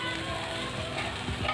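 Mutton liver masala sizzles hard in a pan, a dense, steady frying hiss over a short stretch with faint stirring and a low voice beneath.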